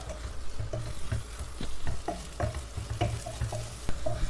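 Spice powders stirred in hot oil in a pan for a Kerala-style squid roast, giving a soft continuous sizzle with spoon scrapes and taps recurring about every half second.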